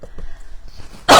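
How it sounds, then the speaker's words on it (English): A single loud, harsh cough bursts out close by after a moment of quiet breathing and faint sounds. "Excuse me, coughing."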